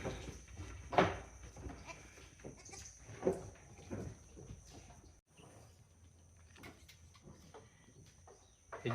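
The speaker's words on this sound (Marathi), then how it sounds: "हे जे शेळी पिल्लाला चाटते ना, ते पण एकदम परफेक्ट बिहेवियर आहे शेळीचं." A mother goat with her newborn kid bleats several times in short, close calls, with a loud cry near the start and another a couple of seconds later, over quiet farmyard background with faint birds.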